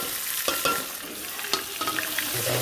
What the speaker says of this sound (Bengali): আমার তেলটা গরম হয়েছে, আমি এখন রসুন দিয়ে দেবো।